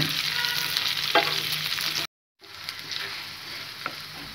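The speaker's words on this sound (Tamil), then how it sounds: "நல்லா கிளறி விட்டுக்கோங்க" Curry leaves and other food sizzling and crackling in a hot pan while being stirred for rava kichadi, with a brief silent break midway before the frying resumes.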